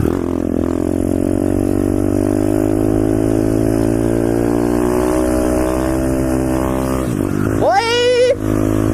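Pit bike engine with a partly repaired exhaust runs steadily at a loud, close idle, then gives a sharp rev near the end before settling.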